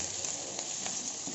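Chopped ginger frying in hot oil in a pan, a brief, even, continuous sizzle heard up close with no voices.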